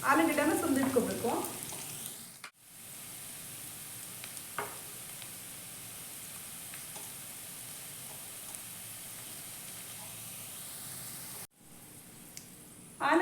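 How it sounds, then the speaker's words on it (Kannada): Steady frying sizzle from a pan cooking spiced ingredients for aloo bonda, a continuous hiss broken by two short gaps, with brief stirring clinks and a louder crackly burst at the start; no talking. "1-2 ನಿಮಿಷ ಫ್ರೈ ಮಾಡಿಕೊಂಡ್ರೆ ಸಾಕು."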